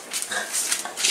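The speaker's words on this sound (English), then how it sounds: "Was he barking because you were outside?" A pet dog indoors gives a close, rapid run of short yips and whiny barks, several bursts packed into about a second with no talking.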